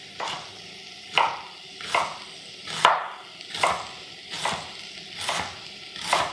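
A knife slices through fennel halves on a cutting board, about eight crisp, evenly spaced chops, close and clear with no talking.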